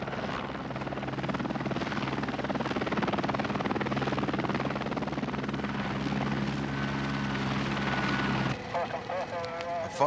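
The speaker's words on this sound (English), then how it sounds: "Roger, helicopter. Received that." Steady low rotor and engine drone of a helicopter carrying a patient in Tasmania in 1984 fills the clip, loud and continuous, cutting off abruptly near the end.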